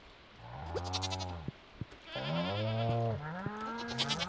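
Goat in the video game Stardew Valley, bleating twice in long, wavering calls with a couple of short clicks between them, close and fairly quiet, with no voices.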